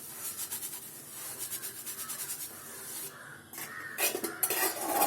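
Oil being rubbed over a hot stone dosa griddle makes soft scraping and wiping strokes with faint sizzle and a few light utensil clinks, close and steady with no talking.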